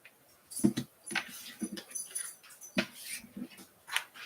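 A small excited dog whimpers and yips in short, quiet bursts close by, with a jingle of tags or keys mixed in and no talk.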